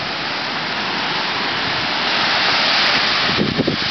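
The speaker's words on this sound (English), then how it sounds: "This is the Fairy Meadow beach." Surf rolls in on Fairy Meadow beach at Wollongong as a loud, constant roaring wash, swelling slightly toward the end, with wind buffeting mixed in and no voices.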